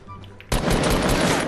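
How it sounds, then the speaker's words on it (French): Gunfire erupts in Fortnite Battle Royale: a near, loud burst of shots starts abruptly after a quiet moment and rattles on without pause. "Il y a un mec qui a essayé de me snipe."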